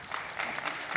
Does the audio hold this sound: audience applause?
yes